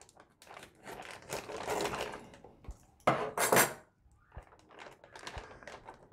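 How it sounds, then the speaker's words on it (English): Strawberries tipped into a large bowl for strawberry wine, with soft thuds, rustling and bowl clatter coming in irregular bursts, close and fairly quiet. "I want to start putting all these strawberries into either a large bowl"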